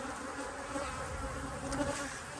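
Honey bees drone in a steady, dense hum around strong backyard hives, close and continuous with no pauses and no voices.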